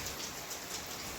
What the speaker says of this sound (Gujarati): વરસાદ હજી અટાણા તો ધીમે ત્યારે ચાલુ છે।